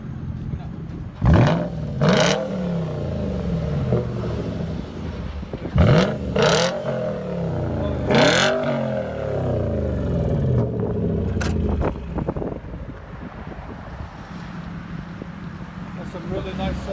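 Deep V8 of a 2007 Volvo S80 with dual exhaust and muffler delete, revving repeatedly in loud, close blips that rise and fall, while people talk over it.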